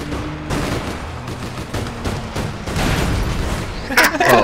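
Gunfire in the online game APB Reloaded: a dense, steady stream of shots and bursts running throughout, with a louder flurry near the end.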